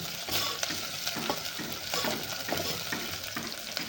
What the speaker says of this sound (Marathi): कांदा थोडासा गुलाबी होईपर्यंत आपल्याला चांगला तळून घ्यायचा